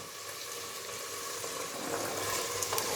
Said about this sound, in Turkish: Şimdi biraz da fasulyesiyle kavrulsun.